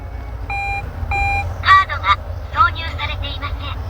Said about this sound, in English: whenever you turn the ignition on, you are greeted by the lovely Japanese lady in the dashboard